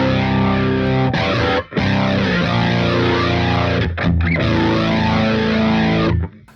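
Electric guitar played through a UAFX Astra modulation pedal set to flanger with overdrive distortion, loud sustained chords with a sweeping, jet-like swirl, briefly cut twice before ringing out and stopping.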